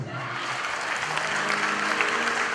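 A church congregation at a French-language service bursts into applause, a thick, sustained wash of clapping from many people with some faint voices woven in.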